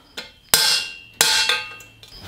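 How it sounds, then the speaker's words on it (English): A hammer whacks a ratchet extension to knock out the bottom bracket of a new Eastern Grim Reaper BMX bike: three sharp metallic strikes, one faint tap then two loud ringing blows and a softer one, close and with no talk. "Trusty hammer. Just a couple whacks."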